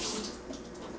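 Tap water runs steadily over the top of a can of clams, a continuous close splashing rinse with no talking.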